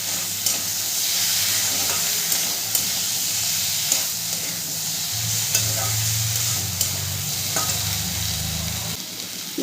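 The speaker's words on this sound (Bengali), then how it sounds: "মশলাটা দিয়ে খুব ভালো করে মিশিয়ে নেব।" Sliced okra is stirred in a hot pan with cumin and turmeric powder for a dhaba-style bhindi dish, giving a steady close sizzle broken by repeated scraping strokes of a spatula against the pan.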